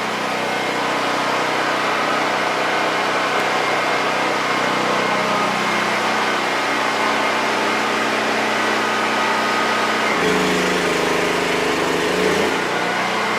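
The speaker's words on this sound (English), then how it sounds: "That's a 2 horsepower, 220 dust collector." A 2 horsepower, 220 volt dust collector runs in a workshop with a steady motor hum and broadband whoosh, loud and continuous, the tone dipping and shifting briefly near the end.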